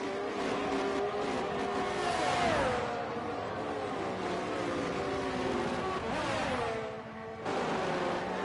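An F1 23 race car overtakes another on track, its high engine whine rising and falling in pitch with gear changes, loud and continuous, dipping briefly near the end before surging again.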